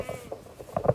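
Short bleats from goats near a garden as feed is carried up to them, a few quick nasal calls close by, the last ones loudest.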